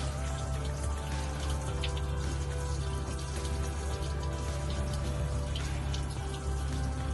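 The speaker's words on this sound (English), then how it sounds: "you can hear obviously the water burping" Water gurgles and splashes continuously from the opened thermostat housing of a Volvo Penta inboard marine engine, over a low mechanical hum, with soft bubbling bursts throughout.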